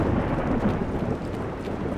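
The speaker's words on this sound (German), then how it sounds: "Vor allem es regnet und plästert." Rain pours steadily with a low rumble of thunder in the video game Assassin's Creed Revelations, a continuous, fairly loud wash of sound with no talk.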